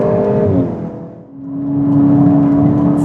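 A VW Golf GTI engine accelerates at full throttle, close and loud. It drops briefly, then climbs again into a steady rising whine that holds to the end. No one speaks.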